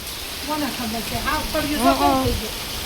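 A steady hiss of heavy monsoon rain, driven by gusty wind, runs throughout as a person speaks close by over it.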